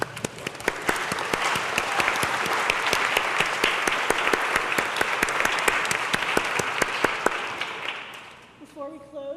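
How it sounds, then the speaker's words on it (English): A large audience at a teen design fair keynote claps steadily and loudly, a dense sustained wash of applause that tapers off near the end as a voice begins. "And I want to applaud you"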